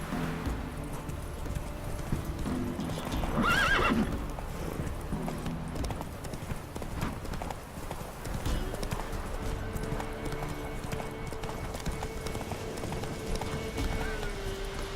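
Roach, the horse in The Witcher 3, gallops with a steady, close clip-clop of hooves throughout, a short whinny partway through, under game music and ambience.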